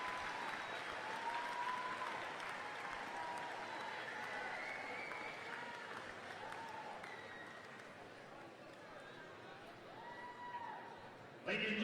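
A large crowd applauds steadily for Hall of Fame inductees in Kellogg Arena at a college basketball game, a sustained wash of clapping and cheering under an announcer's voice.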